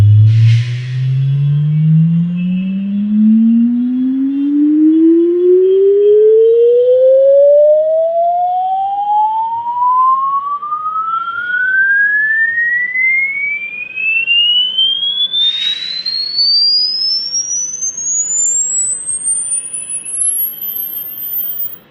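A pure electronic test tone from an Anker Soundcore Glow Bluetooth speaker glides steadily upward from a deep hum near 60 Hz to a piercing high whine near 17,000 Hz over about twenty seconds, loud and continuous, with no voices.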